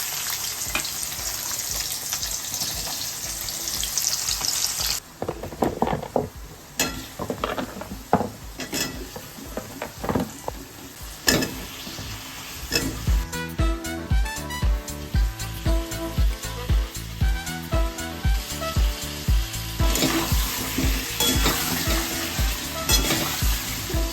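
Marinated meat sizzles loudly in a hot wok, with a steady frying hiss broken by repeated scraping and clinking of a metal spatula stirring the pan, close up with no talking.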